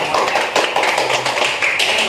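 Clapping from an audience at a teachers' training session, dense and steady over the whole stretch, with voices mixed in underneath.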